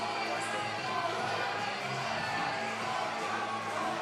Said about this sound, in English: And the chants of Ordo continue from the crowd after such an impressive victory